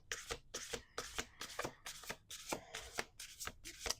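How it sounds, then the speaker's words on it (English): Repeated riffling bursts of a card deck being shuffled, about eight quick rippling flurries in a steady rhythm, close and clear with no talking. "Two more shuffles."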